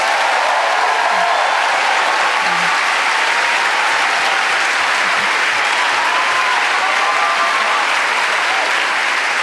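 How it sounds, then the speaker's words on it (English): Audience applause at a college graduation recognition ceremony: a large crowd clapping loudly and continuously in a big hall, forming a thick, even roar with no pauses. "Let's give them all one more round of applause."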